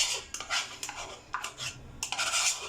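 A cup of yogurt beaten for a chicken pakora marinade, a close run of rapid scraping strokes of a utensil against the bowl, repeated in bursts with no talking.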